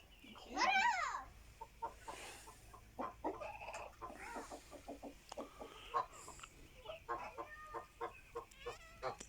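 Farm chickens, part of a small flock of six bought that day, cluck in short repeated bursts, opening with one loud squawking call and then a steady scatter of close, uneven clucks.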